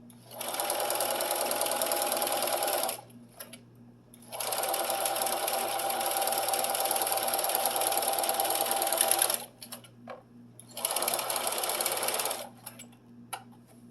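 A sewing machine stitches a fabric strip for a quilted table runner with a quarter-inch seam, running in three long steady bursts separated by short pauses, with a faint low hum beneath.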